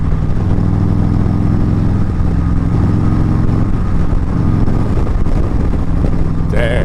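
Harley-Davidson motorcycle engine in anarchy riding mode, a steady, loud, deep rumble close by that runs the whole time without a break, with a brief higher whine near the end.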